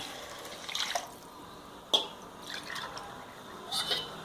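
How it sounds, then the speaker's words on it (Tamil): Rice-washing water is poured into a pot in a few separate quiet splashes and trickles, with short pauses between. "அரிசி களைஞ்ச தண்ணியை சேர்க்குறோம்"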